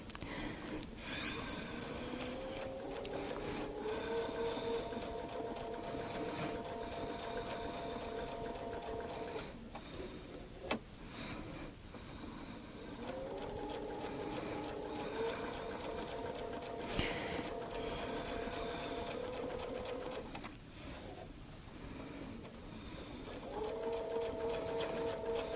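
A domestic sewing machine runs in long steady bursts while stitching arcs of a Baptist fan quilting pattern along a ruler template, its whirring hum pausing briefly between passes and resuming close and continuous.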